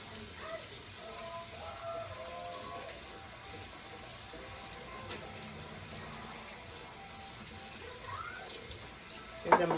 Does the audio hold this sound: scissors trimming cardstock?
no